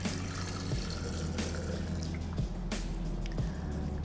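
Tap water pouring steadily into glasses holding tomatoes, a continuous close splashing and trickling wash with a low hum underneath and no talking.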